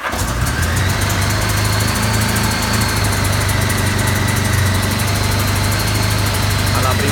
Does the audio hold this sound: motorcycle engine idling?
yes